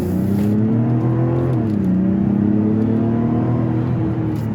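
Engine of a 2024 Mazda CX-90 Turbo S Premium Plus SUV accelerating from inside the cabin, a steady, loud rising drone with a slight dip midway before climbing again, no talking.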